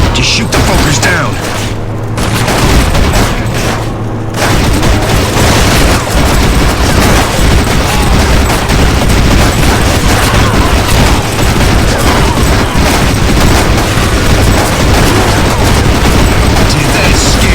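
Gunfire in the dark vampire-themed shooter NecroVisioN: a loud, dense barrage of game weapon fire, blasts and mechanical clatter that runs continuously over a game soundtrack.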